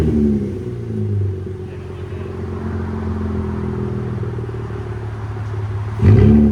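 Exhaust note of a 2022 TRD Toyota Camry with a 3.5L V6 and its resonator cut off, a steady low idle rumble close by, ending in a short louder rev blip.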